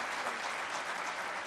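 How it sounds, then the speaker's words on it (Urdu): Audience applause at a political gathering in Haripur, a steady dense clapping from a crowd filling the whole stretch evenly. "جناب بابر نواز صاحب، ممبر نیشنل اسمبلی سے، کہ وہ آئیں اور اظہار خیال کریں آپ کی بھرپور تالیوں میں"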